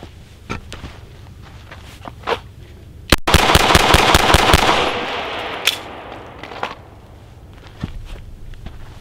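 A rapid string of handgun shots is fired at a paper target using a red dot optic, one sharp report followed by a fast, evenly spaced volley, loud and close, then scattered quieter clicks and movement.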